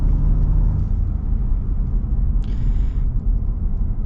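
A 2024 Ford Tremor pickup cruising on a road gives a loud, steady low rumble and tire whir, with a brief higher whine near the middle. Nobody speaks.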